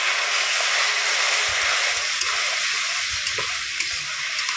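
Gandal leaf paste with turmeric fries in a hot pan with a steady, bright sizzle and hiss, while soft scrapes and stirring knocks come through now and then.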